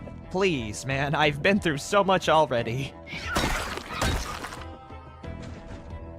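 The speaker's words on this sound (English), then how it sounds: "That is the sound of a door being busted down." A door being busted down in the zombie survival game Project Zomboid, loud crashing and splintering bursts following someone talking, with a few heavy impacts over game background noise.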